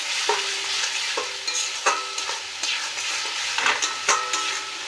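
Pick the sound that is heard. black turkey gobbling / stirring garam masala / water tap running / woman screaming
stirring garam masala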